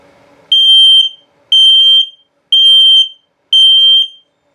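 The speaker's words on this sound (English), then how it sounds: "And of course your low battery alarm." The LP/carbon monoxide detector in a 2022 CrossRoads Zinger 290KB RV gives its low battery alarm during a test, four loud, shrill electronic beeps of about half a second each, evenly spaced one second apart, close and alone.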